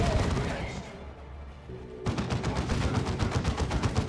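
Plasma gun fire in the Warhammer 40,000: Dawn of War 2 strategy game, a dense stream of rapid shots filling the second half amid battle noise, after a quieter stretch.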